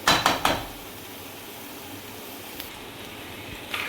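A lid clanks down onto a cooking pan of vegetables for stuffed capsicum, with a few quick metallic knocks at the start, then a quiet stretch and a faint tap near the end.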